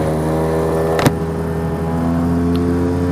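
An Orbar motorbike engine revs hard and continuously up close while shifting up through the gears, with a brief click and a change in engine pitch near the middle.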